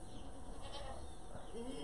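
A person imitates a goat's bleat with their voice, producing a short, rough, wavering call over a steady background hiss.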